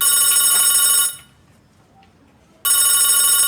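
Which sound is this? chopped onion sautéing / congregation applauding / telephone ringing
telephone ringing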